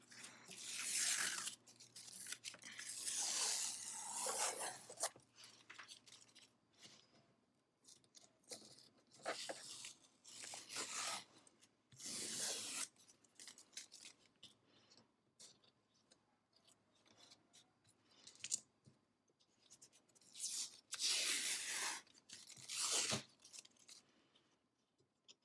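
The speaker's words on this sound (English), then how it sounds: "So I'm gonna take this painter's tape off." Painter's tape peeled away from chipboard on a Cricut cutting mat, a series of close, crackly tearing strips in bursts with quiet pauses between them.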